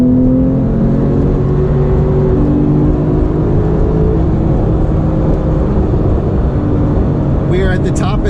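A turbocharged 2017 Porsche 911 heard from inside the cabin as it accelerates through the gears to the top of third. Its engine gives a loud, steady drone with sustained tonal whine throughout.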